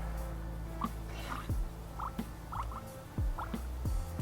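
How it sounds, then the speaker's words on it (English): Air bubbles escaping from the power steering fluid reservoir of a BMW E92 M3 make irregular bubbling pops and gurgles over a steady low mechanical hum, the small bursts arriving every half second or so. "You can still hear those bubbles coming out."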